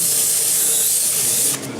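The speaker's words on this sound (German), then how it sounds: "I'm not going to do a lot of sanding because of the dust." Wood is sanded in a workshop, a loud, close, steady hissing rasp that drops off abruptly near the end.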